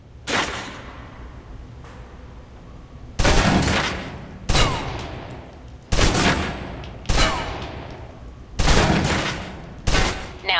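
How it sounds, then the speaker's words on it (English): A submachine gun in the video game Alpha Protocol fires in five loud, close bursts of rapid automatic gunfire, each lasting about a second, separated by brief pauses over a low background, with no talking. "Now, let's move on to the submachine gun. Now let's empty the clip."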